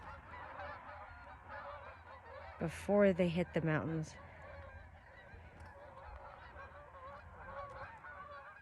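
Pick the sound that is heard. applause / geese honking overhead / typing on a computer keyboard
geese honking overhead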